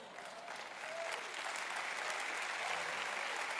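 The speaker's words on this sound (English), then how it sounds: "I love the applause, we just don't have time." An audience applauds during a leadership sermon, the clapping swelling into a dense, sustained wash of many hands from a large crowd.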